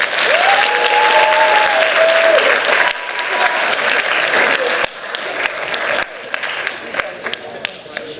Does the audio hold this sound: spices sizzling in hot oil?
no